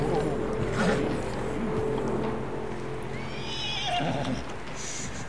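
A horse in the video game Red Dead Redemption II whinnies loudly up close, followed by shifting hoof and movement noises and a second, higher neigh toward the end, over low background rumble.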